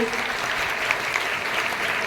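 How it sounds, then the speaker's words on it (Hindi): Steady, dense clapping from a large audience at a Hindi Diwas poetry recitation event, sustained evenly throughout without pause or voices standing out. "एक बार जोरदार तालियां बजाइए"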